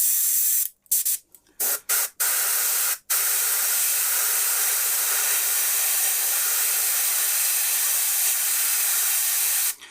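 A Prince August Game Air airbrush sprays paint in a steady, loud hiss that cuts off in several quick bursts at first, then holds continuously for the rest of the time.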